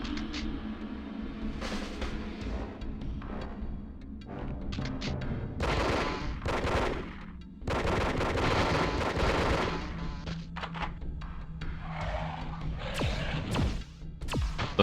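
Phase rifle fire in a video game comes as bursts of loud, sharp shots and thuds, heavy and clustered with brief gaps between volleys, over a low steady background hum, with no talk.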